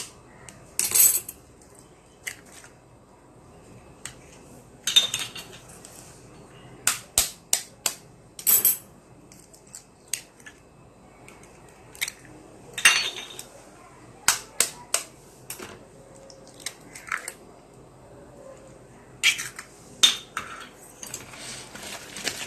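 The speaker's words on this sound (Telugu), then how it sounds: "మసాలా పొళ్ళు మొత్తం వేసుకున్న తర్వాత ఎగ్స్ కొట్టుకుందాం" Eggs for a bread omelette get beaten in a bowl, giving scattered sharp clinks and taps of utensil on dish in irregular clusters, close and fairly quiet, with pauses between.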